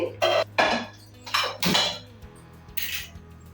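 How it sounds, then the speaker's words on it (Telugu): A metal frying pan picked up and set down for frying okra, several close clanks and clatters of cookware and utensils in quick succession, with brief pauses between knocks. "ఇప్పుడు మనము ప్యాన్ తీసుకోవాలి"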